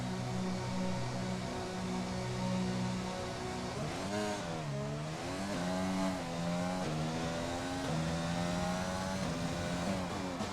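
A race car in a racing video game leaves the pits on intermediate tyres, its engine droning and then revving up through rising gear changes, steady and loud throughout with no talk.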